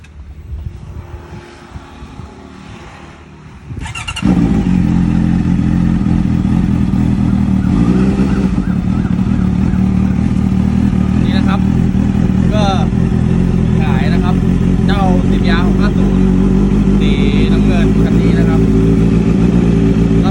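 A Honda CBR650 sport motorcycle engine starts after a few seconds of quiet background sound, then settles into a loud, steady running rumble with occasional revs throughout.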